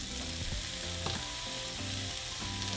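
Onion sizzling and frying in hot oil in a pan for ground beef and bean mini tacos, a steady close crackle with faint stirring and no talk.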